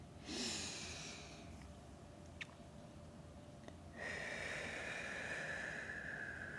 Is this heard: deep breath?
yes